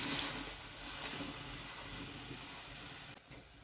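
Taro stems steam in a pot on a kitchen stove, a continuous close broadband hiss of steam that holds steady throughout, with no talk.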